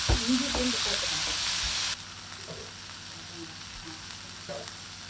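Chopped tomato frying in a pan with ginger and garlic while a squid dish is cooked: a steady close sizzle with light stirring and scraping, quieter after the first two seconds.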